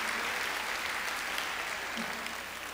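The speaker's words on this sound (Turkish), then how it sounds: "yürekten koca bir alkış istirham ediyorum" Steady, dense applause from a large audience at a Turkish folk dance competition fills the whole stretch at an even, moderately loud level, with no voices standing out.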